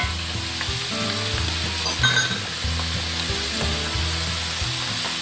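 Steak trimmings sizzle and fry in a hot pan with a steady, loud crackle that barely changes from start to finish, with no voices.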